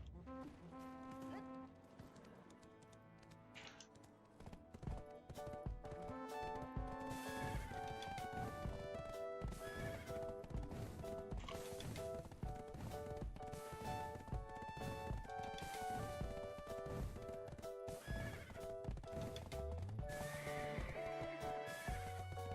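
Horses whinny and hooves clop in a video game, layered over busy game sounds that run continuously and loudly throughout.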